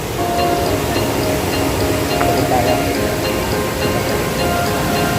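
Strong river current rushing near Talon Pari Falls in Bulacan, a steady, loud, broadband roar of churning water that holds unbroken from start to finish, close by.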